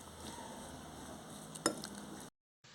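A spoon stirs tomato soup ingredients in a bowl with quiet scraping, and one sharp clink sounds against the side before the sound cuts out briefly.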